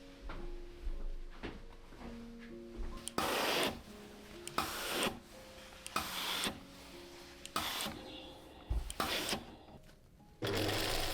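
Sewing machine stitching the hem of a vintage wedding dress, whirring in several short bursts with brief pauses between them, close and fairly quiet, alone.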